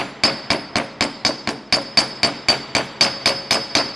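Hammer with a slightly curved face striking a metal jewellery bracelet to texture it, a steady run of about fourteen sharp, loud, ringing blows at an even quick rhythm, close up with no talking.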